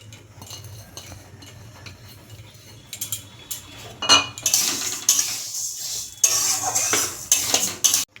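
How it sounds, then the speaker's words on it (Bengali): Mung dal dry-roasted in an open kadai, a spoon scraping and stirring with metallic clinks against the pan, quiet at first and then louder, busier scraping bursts in the second half. "মুগ ডালটা এবার আমি একটু খোলা কড়াইয়ে ভেজে নেব।"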